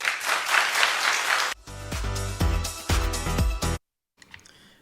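Brief clapping from a studio audience on a daytime talk show, lasting about a second and a half, followed by an abrupt cut to music with a strong beat, then silence.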